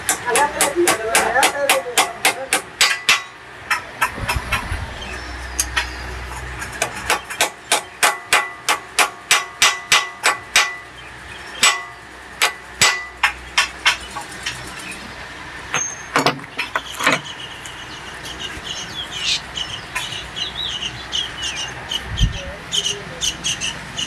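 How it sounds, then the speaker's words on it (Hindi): A bike handlebar cone set race being hammered into place on a Hero Passion Pro, with a long run of sharp, regular metallic blows up close, some quicker bursts, and light workshop handling sounds between strikes. "अब ये ऊपर ठोकेंगे"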